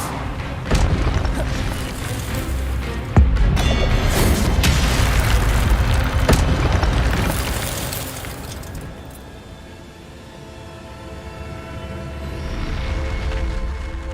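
Spell blasts and bursts in the Hogwarts Legacy video game, with the Expelliarmus disarming spell being cast. The effects come as loud, dense rumbling booms, with a sharp hit near the three-second mark and a quieter stretch before the noise builds again.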